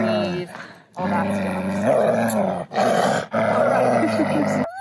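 Sled dogs on a dog-sledding run in Breckenridge, Colorado, growl and bark in a steady, loud, close chorus that carries on almost without pause, broken only by two brief dips.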